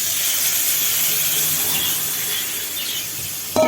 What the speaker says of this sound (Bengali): তো ওই কড়াইয়ে আমি দিয়ে দিচ্ছি টমেটো।